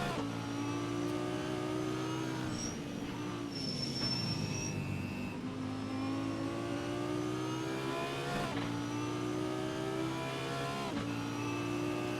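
A Mercedes-Benz race car in a sim racing game at Kyalami sliding crossed up, its engine droning and revving continuously with pitch shifts as it loses and regains grip, other cars' engines layered underneath.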